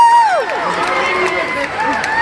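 A political rally crowd cheers and shouts loudly at close range for a birthday, a continuous roar with whoops and whistles that holds steady throughout.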